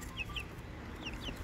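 Backyard hens clucking softly in a few short, quiet calls spaced through a brief moment, over a low murmur of ambient background noise.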